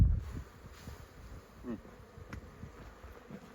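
Honey bees shaken off a hive frame swarm and buzz in a steady, soft drone close by, with a low thud at the start and no talking.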